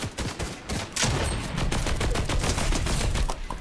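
Rapid gunfire from a video game shooter, including a sniper rifle, crackling in dense repeated bursts that stay loud and steady throughout, with one sharper burst near the start.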